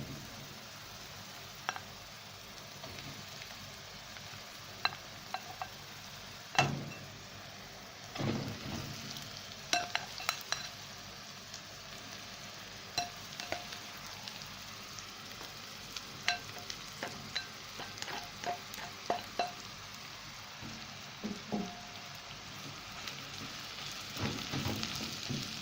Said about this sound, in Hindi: अब हम इसमें आलू जो हमने मैश किए थे वो हम शामिल कर देंगे।